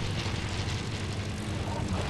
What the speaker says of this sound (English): there's uh, an airplane in the air by northwest